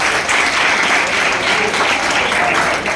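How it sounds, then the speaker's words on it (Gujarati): Audience at an education seminar on study options after standard 10 and 12 claps steadily, a dense, close round of applause filling the whole moment without pause. "આ બે માટે તાળીઓ પાડો."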